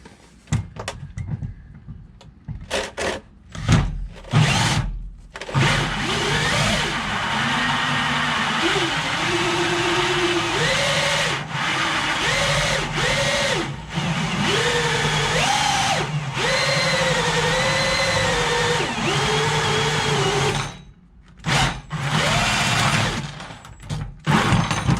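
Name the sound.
hole saw drilling through diesel fuel bowl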